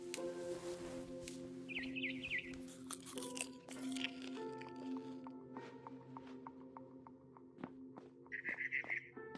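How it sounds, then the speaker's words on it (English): Barn swallow chirps in a video game: short bursts of high twittering come twice, once early and again near the end, over crunching chewing sounds and a steady ambient bed. "Then I heard chirping outside my window. It was a barn swallow going back to her nest."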